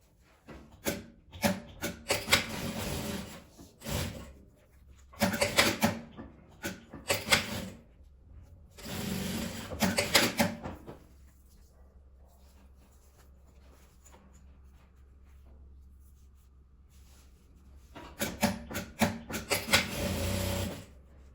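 A sewing machine stitching the second side of a fabric-scrap patchwork pouch in short bursts of rapid whirring, separated by quiet pauses and a longer gap before the final run.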